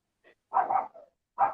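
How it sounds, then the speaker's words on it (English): A dog barking at home, a short burst of two or three close, loud barks with a small yip before them. "Who let that dog out?"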